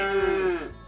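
A single cow moos in the farming video game Agricultural Simulator Historical, one drawn-out, close and fairly loud call lasting under a second, tapering off at the end, with no talk over it.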